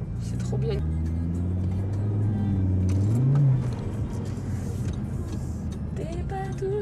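An automatic car rumbles steadily while driving, its engine tone rising and falling slightly, with light ticks and a voice talking over it throughout.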